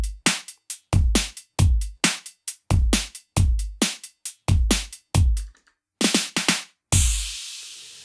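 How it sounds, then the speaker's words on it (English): Singular Sound Beat Buddy drum machine pedal playing the groove rock 3 pattern at 135 BPM: punchy kick and snare hits in a steady rock beat, with a short fill near the end and a crash cymbal ringing out. "if you have the Beat Buddy, I chose the groove rock number 3"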